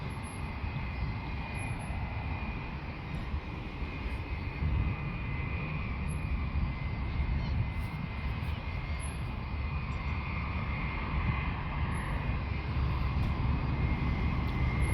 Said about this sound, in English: Planes are on the move today.